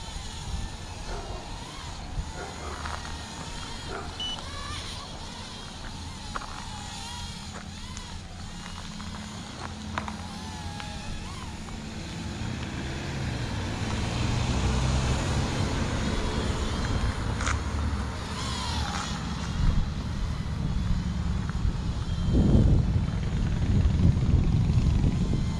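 A Voyage Aeronautics VA-2080 mini drone from Walmart flies outdoors in a breeze, giving a steady, fairly quiet buzzing hum under wind noise that grows louder toward the end.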